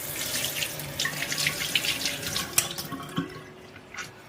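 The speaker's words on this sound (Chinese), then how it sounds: "这是一块猪颈肉，我们先来清洗干净" Tap water runs steadily into a sink as a piece of pork neck meat is rinsed beneath it, a continuous close splashing with small irregular spatters and no talking.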